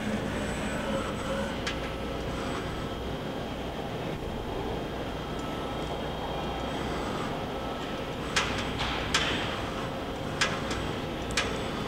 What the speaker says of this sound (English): the chip conveyor is functioning.